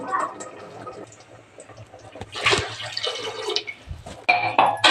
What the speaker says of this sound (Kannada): ಒಂದು ಲೋಟ ಅಕ್ಕಿಗೆ ಎರಡು ಲೋಟ ನೀರು ಹಾಕ್ತೀನಿ ಎರಡು ಲೋಟ ಎರಡು ಕಾಲು ಲೋಟ ನೀರು ಹಾಕ್ತೀನಿ